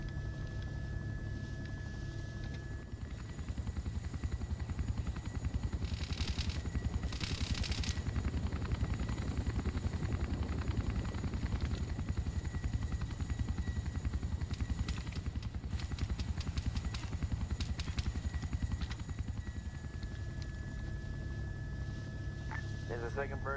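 Helicopter flying in a Vietnam War video game, a steady rotor and engine drone running throughout beneath occasional gunfire bursts and radio-style chatter, fairly loud and continuous.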